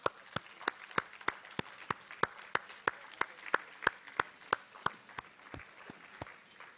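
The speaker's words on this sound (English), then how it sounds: "Big round of applause." At an architecture student award ceremony, sparse claps ring out one at a time in a steady rhythm, fairly faint and close, like a small handful of people applauding.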